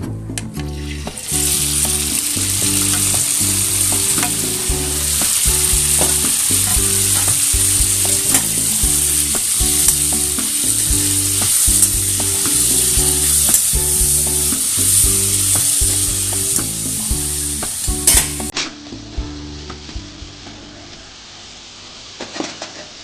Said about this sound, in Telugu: ఓకే ఆయిల్ కానింది ఇప్పుడు టమాటా పచ్చిమిర్చి వేసుకుంటున్నాం